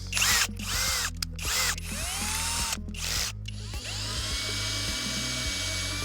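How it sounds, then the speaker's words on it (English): A power drill whirs steadily in several bursts, revving up and down as it bores a hole while parts are installed on a 2019 BMW X3 M40, close and loud with short pauses between runs. "We're gonna drill a slightly larger hole now to go along with this"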